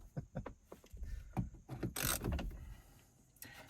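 Small crescent wrench working an 8mm bolt in a cramped spot during a heater core replacement on a 9th-generation Honda Civic, giving quiet, irregular metallic clicks and clanks with a brief scrape, close by and with no talking.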